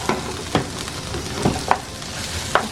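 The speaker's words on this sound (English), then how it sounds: "let's fry that up" Squash frying in oil in a pan, a steady soft sizzle broken by a few sharp clinks and scrapes of stirring, close up, no talking.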